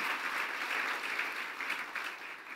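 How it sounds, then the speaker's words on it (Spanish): Steady applause from a church congregation during a sermon, a dense even wash of clapping that holds at a moderate level throughout without a break. "dele fuerte el aplauso, así es."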